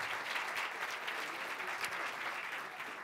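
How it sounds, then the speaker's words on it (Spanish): Dense, steady audience applause at the inauguration of an expo fair at a university, a sustained wash of many hands clapping at even volume throughout. "un aplauso por favor"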